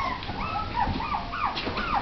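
Six-week-old shih tzu–bichon cross puppies give high, wavering whimpers and yips close by over a low rumble of background noise.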